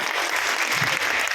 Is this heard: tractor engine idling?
no